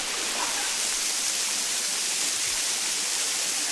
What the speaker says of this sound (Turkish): Yaklaşık 20 metrelik bir mesafeden aşağı inen şelale.